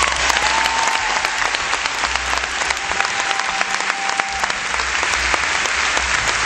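An audience at a live concert on a 2005 tour stop in Clearwater claps in sustained, dense applause, loud and continuous without any talking.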